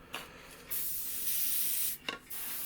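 Two bursts of aerosol spray paint hiss out, a short spurt then a longer steady spray, close and fairly loud.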